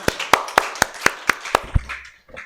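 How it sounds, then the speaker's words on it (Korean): A church congregation at a revival service claps in a burst of sharp, fairly regular claps, about seven distinct hits, then fades, with no talk over it. "하나님께 영광의 박수"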